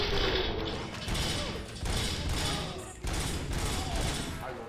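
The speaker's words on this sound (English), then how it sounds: "why do you have to shoot these guys so many times?" Rapid bursts of gunfire and mechanical clatter from the video game RoboCop: Rogue City, loud and dense, repeating in several volleys while someone talks over them.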